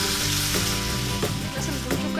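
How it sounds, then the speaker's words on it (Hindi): Ginger garlic paste frying with chicken in oil for a chicken karahi, giving a steady close sizzle with a few soft stirring scrapes throughout. "अब अदरक लहसुन का पेस्ट डालेंगे 2 टेबल स्पून। भूनेंगे अदरक लहसुन के साथ।"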